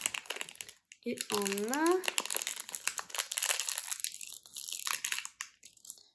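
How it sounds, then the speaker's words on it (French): Crinkly plastic Doorables blind-bag sachets being torn open, a run of loud crackling and rustling bursts through most of the moment, with a voice speaking briefly near the start. "Les sachets sont durs à ouvrir."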